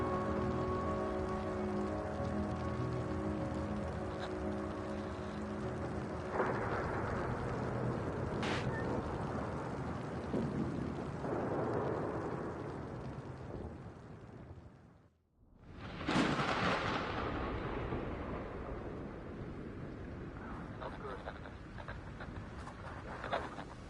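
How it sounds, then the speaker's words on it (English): A raging storm in the video game The Invincible: steady heavy rain pours throughout with low rumbling like distant thunder, briefly dropping almost to silence midway before the downpour surges back loud. "The storm's raging."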